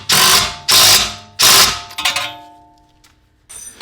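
Three loud, ringing metallic clanks in steady rhythm, then a few smaller rattles, as a wrench works on the 17mm bolt of a rear sway bar end link on a B5 Audi S4 suspension.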